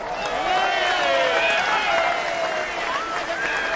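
A crowd cheers and whistles in a steady, moderately loud roar, with rising and falling shouts layered over one another throughout.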